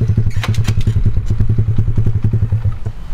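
A motocross bike's engine thumps in a fast steady pulse at close range, loud and rough, as the rider shifts gear at a motocross park.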